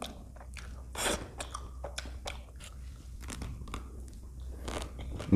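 Close, crisp chewing and biting of a candy ice cream, with repeated crunchy bites at an irregular pace and no talking.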